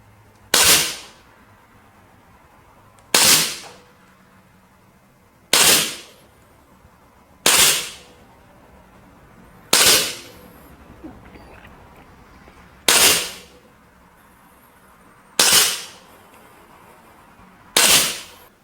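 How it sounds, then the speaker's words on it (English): Sig Sauer BB air pistols, the P226, M17 and Emperor Scorpion 1911, fire eight sharp, close cracks spaced about two to three seconds apart over quiet outdoor background, with no talking. "Sig Sauer air pistols, P226, M17, and the Emperor Scorpion 1911 from Sig Sauer"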